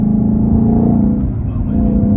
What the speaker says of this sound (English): here's a little second gear hit